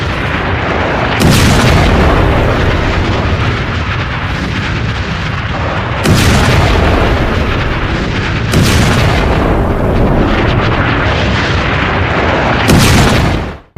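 Massive explosions from missile and rocket strikes in residential areas of Lebanon, a series of very loud, deep sustained blasts and rumbling roars, several distinct surges back to back, overwhelming and close, with no speech.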